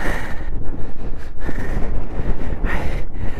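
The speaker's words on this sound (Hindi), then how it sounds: "बहुत बहुत बहुत तेज हवा है।" Very strong wind roars across the Nakee La mountain pass in the Himalayas, buffeting the microphone in loud, continuous gusts with rumbling surges throughout, and no one speaks.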